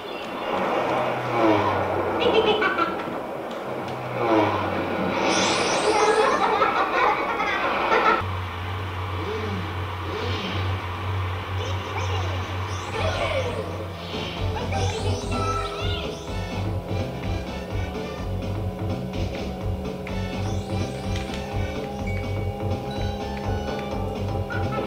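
Kart racing from Diddy Kong Racing on an N64, with buzzing game engine tones that shift in pitch as the karts race, layered over steady music-like game audio at moderate level.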